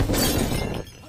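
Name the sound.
oil lamp falling and breaking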